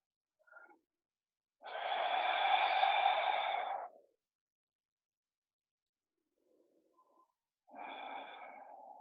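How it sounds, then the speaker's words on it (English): Deep, slow exhales during a guided relaxation session: two long breathy releases, one about two seconds and another starting later, each preceded by short faint sounds, close and quiet in an otherwise silent room. "We're going to start by taking a few deep exhales."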